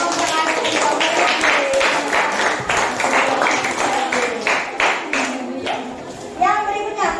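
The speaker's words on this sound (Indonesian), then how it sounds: "berikan tepuk tangan dulu untuk kelompok adik" Audience clapping for a student group at a school presentation, a run of quick sharp claps overlapping with children's voices talking nearby, moderately loud throughout.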